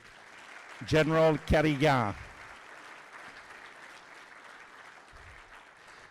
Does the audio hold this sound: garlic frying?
no